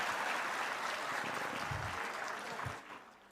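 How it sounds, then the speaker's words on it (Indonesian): Applause from an audience at an Indonesian government gathering, a steady broadband patter filling the clip and fading toward the end, fairly moderate in strength. "kok tepuk tangannya nggak terlalu keras kalau Pak?"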